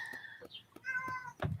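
A cat meows several times in short, insistent calls, close by, with brief pauses between them and no talking.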